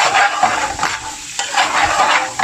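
King prawns frying in a pan for a bhuna, a steady loud sizzle with bursts of stirring and scraping rising and falling throughout, close up and with no talking.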